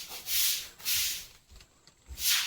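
Onion, tomato and yogurt koshimbir salad is stirred in a bowl with soft, rhythmic swishing and scraping strokes, four gentle sweeps with brief pauses, fairly close and quiet.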